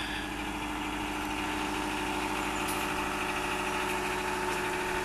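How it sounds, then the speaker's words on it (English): A motorhome engine idles while warming up on an early morning, a steady, close, mid-pitched rumble with an even, slightly knocking pulse and no talk over it. "engine's running we're warming the, the engine up"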